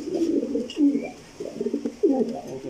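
Racer pigeons, quality female birds in a breeder's loft, coo close by in repeated soft, throaty phrases that overlap one another.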